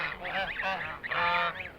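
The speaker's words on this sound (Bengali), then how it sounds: "রাজহাঁস।" Domestic geese honk loudly and close by in a rural setting, two bursts of harsh nasal calls with a short gap between them.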